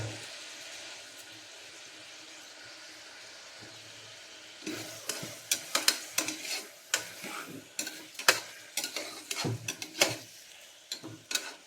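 Tomatoes for egg biryani fry in a pan, a low sizzle at first, then a run of sharp spoon-scraping and stirring knocks against the pan that continues irregularly, close by.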